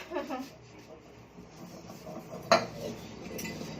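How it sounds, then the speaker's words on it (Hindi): Utensils being scrubbed and dishes clinking in a home kitchen, tea pots among them, with soft scraping and a sharp metallic clatter near the middle, close and moderately quiet. "अभी मैं बर्तन घस के रख लेती हूँ"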